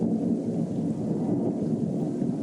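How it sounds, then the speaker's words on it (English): Deep, steady thunder rumbles beneath a wash of rain in a stormy scene, dense and continuous at an even loudness throughout without a clear swell. "The thunder gets louder and louder, cutting through the veil."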